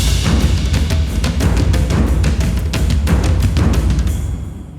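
Hollywood Fantasy Percussion orchestral section of taikos, nagados and toms pounds out a dense, loud, driving pattern of repeated booming hits with sharp attacks, sustained throughout before the last strokes ring out and fade.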